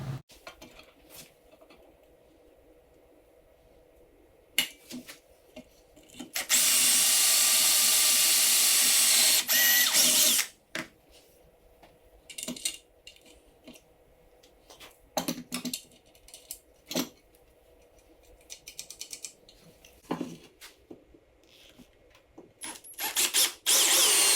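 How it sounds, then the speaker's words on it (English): A power drill whirs loudly for about four seconds while building a dust collector and light arm for a wood lathe, surrounded by scattered clicks, knocks and handling noises of tools being set down and adjusted. "I'm drilling a little closer to my fingers than I probably should"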